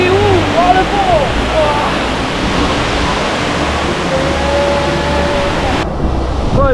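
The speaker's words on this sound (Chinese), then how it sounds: "对，瀑布正下方的那个风劲真的很强，因为这是一个很大的瀑布。" Broadband rushing roar of the large Tumpak Sewu waterfall with strong gusting wind directly below it, loud and continuous, with voices talking over it.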